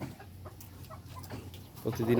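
Five-and-a-half-month-old Fayoumi hens at their laying spots give soft, intermittent clucks, faint and close, with a louder burst near the end as someone speaks.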